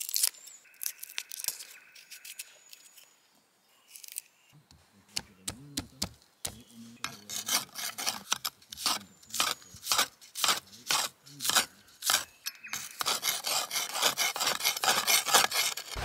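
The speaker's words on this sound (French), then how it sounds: "je vais hacher un peu d'ail que je vais mettre dans la sauce" A knife chops garlic on a board outdoors, with a quick run of sharp, irregular taps that grows denser and louder, ending in fast scraping and rubbing.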